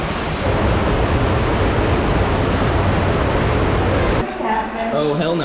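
A waterfall in Khao Sok National Park, Thailand, roars as a loud, steady rush of water close by, and then gives way near the end to people talking.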